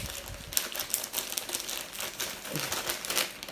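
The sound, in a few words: microwave potato bag being sealed, clicking closure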